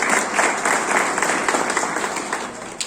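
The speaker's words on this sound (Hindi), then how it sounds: "सभी विजेताओं के लिए जोरदार तालियां हो जाए।" Loud, dense applause from an audience honoring competition winners at a JCI annual report event, steady broadband clapping filling the whole stretch without a break.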